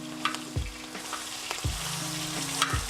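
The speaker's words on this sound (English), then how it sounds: "This is also gonna cook relatively quick because it's on the hot bacon grease" Sausage chopped into hot bacon grease in a pan sizzles and crackles steadily at close range, with three deep scraping or thudding spatula strokes breaking through at roughly one-second intervals; nobody speaks.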